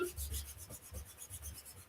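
A rub-on word transfer is burnished onto a 9x12 furniture insert with a tool, making quick, quiet, rhythmic scratchy rubbing strokes, about five per second, close up with no talking.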